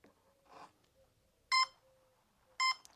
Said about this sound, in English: Oh, the motor's got beeps.